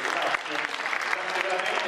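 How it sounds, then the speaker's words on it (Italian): Audience applause at a school event held at IIS Guglielmo Marconi in Latina for a Special Olympics day, steady dense clapping from a crowd filling the whole moment, fairly close and even. "vi chiedo di farvi un applauso, va bene, a tutti voi"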